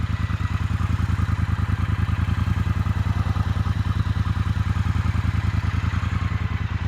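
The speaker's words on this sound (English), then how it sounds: "Let you hear this engine running uninterrupted for just a moment." A 2020 Triumph Bonneville Speedmaster with a 1200cc parallel-twin engine idles close by, a steady, even thumping pulse with no revving and no voices over it.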